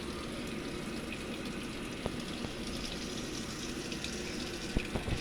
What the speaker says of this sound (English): So now it's filling with water.